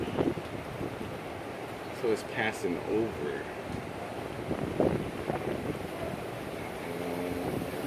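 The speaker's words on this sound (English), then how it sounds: "We're about to get wet because it's windy." Storm wind buffets and roars across the microphone in gusts as rain arrives with a tornado, while people talk over it outdoors.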